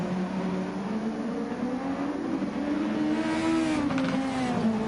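Sustained car engine drone with a rising, wavering tone from GT1 race cars at Autopolis in a sim racing game, tyres squealing as one driver smokes them, steady and fairly loud throughout.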